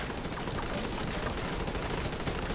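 Dense, continuous gunfire from a rapid-fire weapon in The Division 2, a loud unbroken crackle of rounds with heavy punch throughout, no speech over it.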